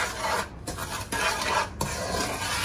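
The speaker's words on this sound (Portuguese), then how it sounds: "Aí vou misturar tudo" A spoon stirs a mixture of sugar, water and chocolate powder in a pot, scraping continuously and close with brief pauses between strokes, no voices.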